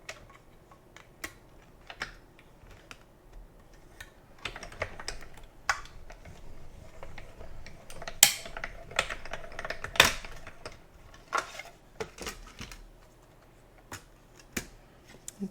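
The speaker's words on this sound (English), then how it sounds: "Got my mini Stampin' Cut and emboss machine this time." A mini Stampin' Up! Cut and Emboss machine cranking paper through, with faint clicking and ratcheting taps in uneven bursts, quiet and close, with no talk.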